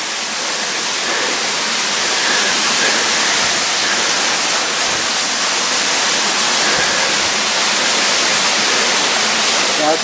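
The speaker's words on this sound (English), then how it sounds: "this is one of the cooler waterfalls in the White Mountains" Champney waterfall in the White Mountains, a multi-tiered fall that breaks many times, roars as a loud, steady broadband rush of falling water close by, continuous throughout with no break.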